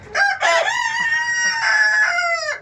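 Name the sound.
rooster crowing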